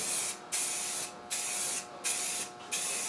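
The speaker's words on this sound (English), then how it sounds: "And we ensure it's evenly sprayed" Even bursts of spray paint hiss onto car interior panels in light coats, four steady sprays of about half a second each separated by short pauses, close and alone.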